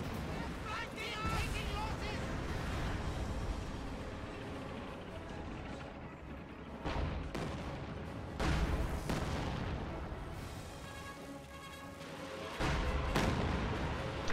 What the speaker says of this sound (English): Panzerwerfer firing its first barrage.